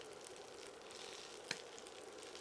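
Chicken gizzard and heart burgers topped with pepper jack cheese sizzle steadily in a pan, a quiet continuous hiss with one sharp pop near the middle, no voices.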